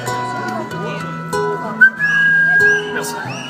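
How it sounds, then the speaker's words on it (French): A performer whistles a melodic intro at a live concert in Maubeuge: a clear, rising and sliding tune that rings out over background voices and stage sound. "Intro sifflet. Si. Vas-y, direct."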